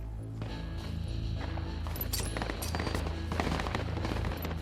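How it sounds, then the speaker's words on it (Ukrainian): A grenade blast in the military video game Project Reality, heard within a dense run of sharp cracks and bursts of gunfire-like bangs over a steady low rumble, loud and continuous throughout. "Ну давай я кину гранату, віриш, ні?"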